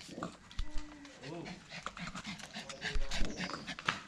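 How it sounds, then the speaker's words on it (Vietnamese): Large dog panting near puppies from a litter of seven, rhythmic breaths close by under lively talk and laughter from several people. "con chó to dữ thế"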